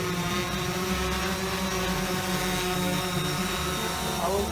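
A DJI Phantom 4 drone hovering nearby, a loud, steady, whining propeller buzz with layered tonal harmonics that holds constant throughout.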